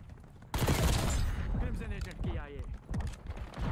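A SAUG submachine gun in Black Ops 6 fires a loud rapid burst that kicks in sharply and then recedes under someone talking, with scattered shots continuing beneath his voice.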